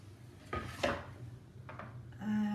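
A silicone spatula scrapes a thick raw vegan chocolate torte mixture around a bowl in a few short, soft rubbing strokes, with a faint tonal clink near the end.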